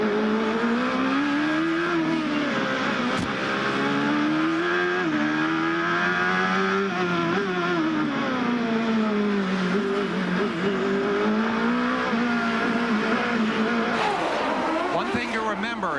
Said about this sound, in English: We listen to Bobby Rahal as he works his way through the gears on this circuit.